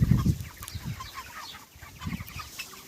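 Broiler chickens raised on straw in a farm shed give soft, close clucks and murmurs in scattered bursts, with a quiet flock chatter underneath.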